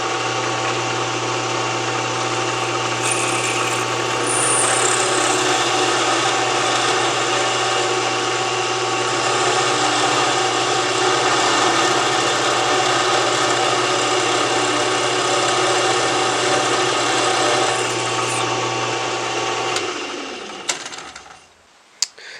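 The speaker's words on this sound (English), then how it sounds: "So I'm just going to drill those out right now." A power drill bores holes in steel from a leaf spring, running continuously for about twenty seconds, a steady high whine with grinding, then stops abruptly with a few clicks.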